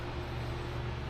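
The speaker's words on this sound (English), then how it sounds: "It's a little loud here with the fans going." Fans run with a steady, droning hum and broadband whoosh in a hot workshop, constant and fairly close throughout the short stretch.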